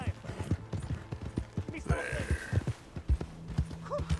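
Horse hooves clip-clopping at a steady walking rhythm in Red Dead Redemption 2, close and distinct, while someone speaks briefly over the hoofbeats.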